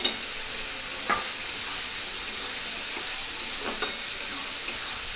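Tomato fries with meat in a hot pan, giving a loud, steady high-pitched sizzle with a few faint clicks and pops scattered through it and no voices.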